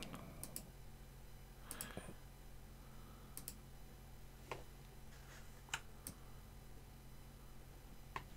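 Soft, sparse clicks and taps from a computer keyboard, faint and close, arriving in irregular bursts over a low steady room hum with no voices.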